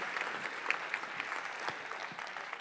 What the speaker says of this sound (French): On applaudit aussi Mariama.